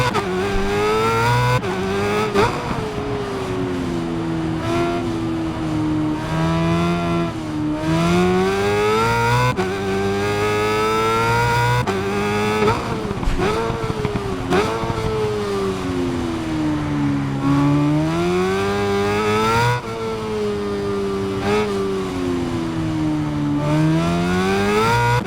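A BMW S1000RR superbike races around a circuit in the game Ride 5, its high-revving engine whining up and down through gear changes in a continuous loud drone, with brief dips as it shifts and brakes into corners.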